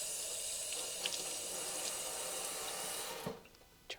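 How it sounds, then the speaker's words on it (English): Hands are rinsed under a running tap, a steady close rush of splashing water that breaks off near the end with a few soft knocks. "Give it a good rinse."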